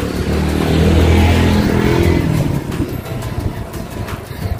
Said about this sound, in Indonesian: Ada motor belakang.